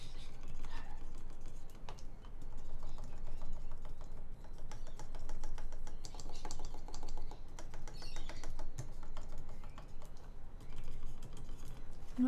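Rapid, steady typing on a modded Poker 3 mechanical keyboard fitted with lubed Alpaca switches. The keystrokes sound close and continuous, with soft muted clacks and no rattle.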